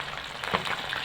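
Tilapia fish frying in hot oil, a steady close sizzle and crackle with no talking over it.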